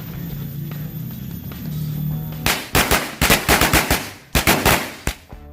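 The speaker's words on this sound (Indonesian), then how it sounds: "Selanjutnya kita cobain mercon korek color smoke corsair warna biru." A blue Corsair color smoke firecracker starts with a quiet fizzing, then erupts into a rapid string of loud, sharp cracks close by, pausing briefly before a last cluster of bangs.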